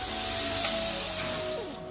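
Onions frying with cardamom and cinnamon in a pan for chira pulao, a steady close hiss of sizzling oil that eases slightly toward the end.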